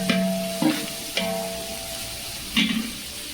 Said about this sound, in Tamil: உப்பு போட்டதுக்கப்புறம் வெங்காயத்தை நல்லா ஹை ஃப்ளேமில் வச்சு வதக்கிக்கோங்க.